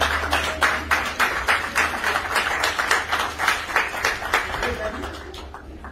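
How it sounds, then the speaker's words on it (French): Rhythmic clapping from wedding guests honouring the witnesses at a customary marriage ceremony with a dowry exchange, steady and fairly close for about five seconds, mixed with voices and crowd noise. "Applaudissez pour les témoins."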